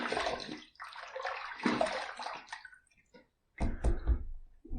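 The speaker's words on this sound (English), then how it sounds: "Let's rinse." Razor rinsed under running water from a tap, a close splashing gush in two bursts separated by a brief silent pause.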